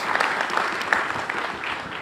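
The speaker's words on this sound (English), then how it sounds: "So do applaud the Finance Minister for that as well." An audience at a finance conference on GST claps steadily for about two seconds, a dense moderately loud patter of many hands with a faint voice underneath.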